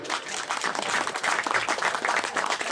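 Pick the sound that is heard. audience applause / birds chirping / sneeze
audience applause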